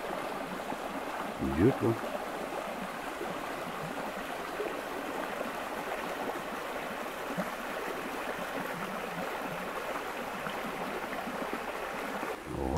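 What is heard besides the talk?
small stream flowing through woodland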